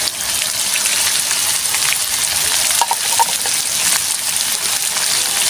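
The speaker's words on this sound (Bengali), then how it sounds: "আলু আর মূলো আমি একসঙ্গে ভেজে নেব।" Potato and radish fry together in a pan with a steady, dense sizzle that hisses evenly throughout, like light rain, with a few faint clinks partway through and no voices.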